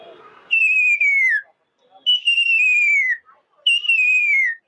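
A man whistles an imitation of a kingfisher's song: three long, clear, slightly falling whistled notes, close and loud, separated by brief silences, with no talk.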